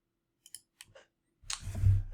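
Mouse clicks in a website builder: a few light, separate clicks close to the mic, followed by a louder, fuller burst of clicking and rustling.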